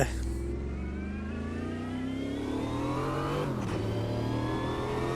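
A race car engine in the sim racing game Automobilista 2 revs and climbs through the gears, a loud close whine rising in pitch, then dipping briefly before building again.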